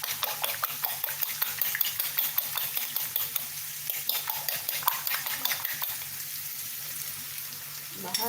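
Four eggs go into a hot pan for burritos and are stirred, with a quick rhythmic scraping of a utensil over a soft sizzle that eases near the end.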